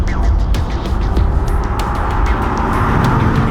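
A 2020 BMW M8 Coupe with a 617-horsepower 4.4-liter twin-turbo V8 accelerates hard, its loud, dense engine roar running continuously and close by for a few seconds with no talking.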